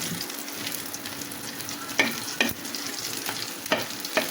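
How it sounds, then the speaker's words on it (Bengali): Taki fish fry in hot oil in a pan, a steady close sizzle broken by a few sharp pops and crackles, with no voices. "টাকি মাছগুলো ভর্তা করবো, তো এই জন্য সুন্দর করে লাল লাল করে ভেজে নিলাম।"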